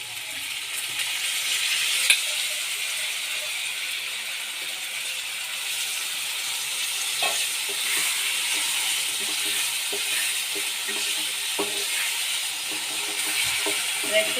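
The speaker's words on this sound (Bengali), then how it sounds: "এবার এর মধ্যে আমি ডালগুলো দিয়ে দিচ্ছি।" Lentils tipped into a hot pan of oil and chili powder give a steady, fairly quiet sizzling hiss that runs throughout, with a few small clicks of stirring and no voices.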